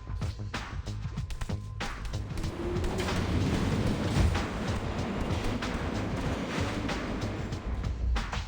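A train rumbles along in the video game TMNT: Mutants Unleashed, a continuous loud low roar with rattling and sharp metallic impacts layered over it and a rising whine partway through, steady to the end.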